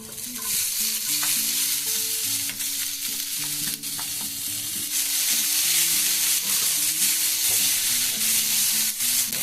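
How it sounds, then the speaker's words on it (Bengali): Grated coconut dry-roasting in a pan with no oil or ghee, stirred steadily, giving a continuous scraping and rustling hiss that stays loud and close throughout, with a faint tonal hum in the background. "এই নারকেলগুলোকে একটুখানি ভেজে নিতে হবে"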